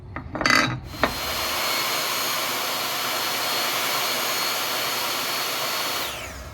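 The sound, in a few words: cutting leopardwood and cherry pieces for a knife handle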